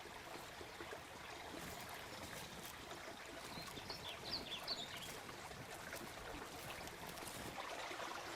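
Water flows steadily in Sonoma Creek at Sugarloaf Ridge State Park, a faint, even rush that holds through the whole stretch, with a few light bird chirps near the middle.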